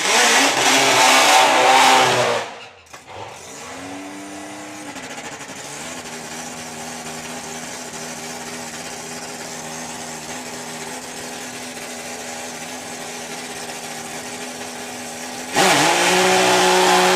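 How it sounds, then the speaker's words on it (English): Supercharged nitro-burning drag racers, a three-cylinder rocket and a four-cylinder machine, roar at full throttle for a couple of seconds, drop to a steady droning idle rumble, then erupt loudly again at the end. "Al Smith with the rocket. 3-cylinder supercharged nitro burning machine against the slightly more traditional 4-cylinder nitro burning"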